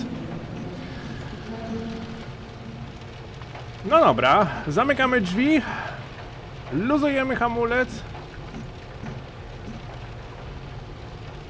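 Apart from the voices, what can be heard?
rain in video game Train Simulator Classic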